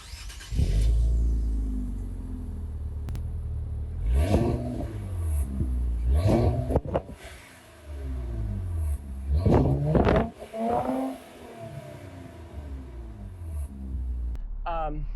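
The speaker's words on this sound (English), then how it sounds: "we're going to show you guys an exhaust note" An Infiniti Q60 Red Sport 400 engine revs repeatedly, its throaty exhaust rising and falling in several loud bursts, with voices talking in between.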